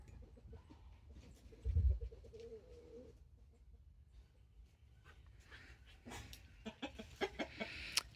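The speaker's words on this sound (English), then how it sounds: "Listen to the birds." Outdoor birdsong near a chicken yard, with faint scattered chirps and calls, a soft low cooing, and louder clucks and rustling building toward the end.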